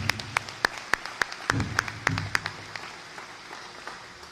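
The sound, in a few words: audience applause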